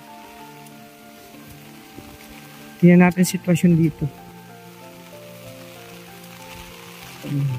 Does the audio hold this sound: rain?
yes